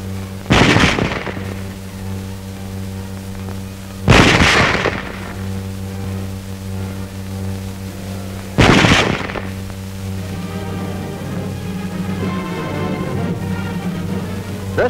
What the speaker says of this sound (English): Loading and firing the Model 98K is the same as our own Springfield, with the exception of the sight adjustment